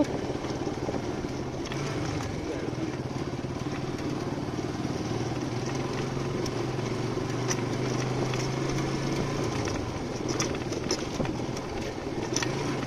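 A motorcycle rides along a sandy river char track on the Jamuna near Sariakandi, its engine droning steadily and close throughout with a continuous mid-pitched hum and no pauses.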